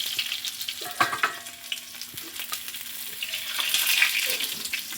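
Seerfish roasting in oil on a tawa, a continuous close sizzle broken by a few sharp scrapes and clatters as it is turned or lifted, with no talk.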